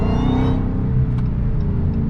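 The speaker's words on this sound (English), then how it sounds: "You guys can hear the JLT intake whine as well." A Dodge Hellcat engine with a JLT intake revs from inside the car, a deep low rumble with a high whine above it that drops away after half a second as the revs settle.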